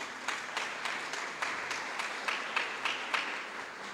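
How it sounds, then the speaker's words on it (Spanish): A crowd at a national catechesis congress applauds steadily, many hands clapping in a dense wash with sharper individual claps punctuating it at a regular pace. "también pedimos un fuerte aplauso"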